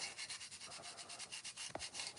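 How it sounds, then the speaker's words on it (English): Light hand sanding of a textured pot to knock off burrs produces a quick, even series of close rubbing strokes, about four per second, with a sharper scrape near the end. "do a very mild sanding just to get rid of the burrs and stuff"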